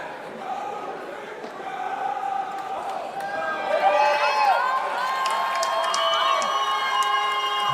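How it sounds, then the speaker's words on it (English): Crowd noise at a padel final in Bali, with cheering and a lone enthusiastic supporter rising over a steady murmur of spectators, growing louder midway, alongside commentary talk. "Enthusiastic supporter you may hear in the crowd."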